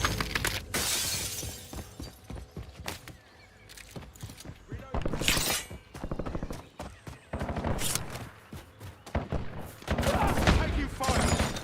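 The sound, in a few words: gunfire in the video game Warzone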